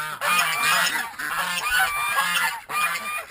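Homestead geese honk loudly and close by in overlapping, repeated calls, with a few brief pauses between bursts.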